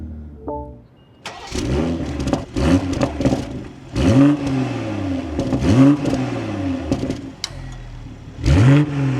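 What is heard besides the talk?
2026 BMW M240i xDrive engine starting and revving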